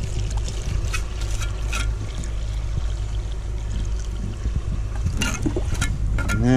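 Water poured into a lime and sand mortar mix for a French stone wall, a steady close-up trickling and splashing that runs continuously, with no talking.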